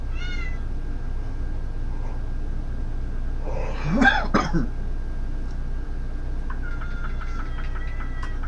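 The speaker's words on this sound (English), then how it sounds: "they're meowing for you, not me" A cat gives a brief meow, followed by a throaty cough-like sound and then a few more quick meows, all over a low steady hum.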